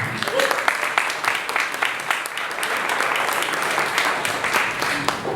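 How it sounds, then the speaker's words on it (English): An audience at a community evening event claps steadily for the facilitator, a moderately loud, sustained round of applause with faint voices underneath. "Round of applause for Ben"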